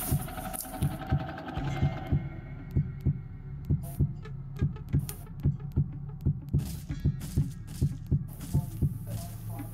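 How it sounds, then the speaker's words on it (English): Heartbeat minigame in the Roblox horror game Doors: a steady, evenly paced thumping pulse over a low hum, running throughout with no speech. "do the heartbeat"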